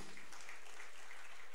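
A church congregation applauds to glorify God during a sermon on the Moravian missionaries: a continuous, fairly soft wash of many hands clapping, with no voices.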